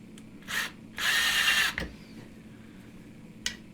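A power drill bores into aluminum stock for a phone camera jig, coming in short whirring bursts: a brief burst, a longer steady run, then a final quick spin after a pause, with faint background noise between.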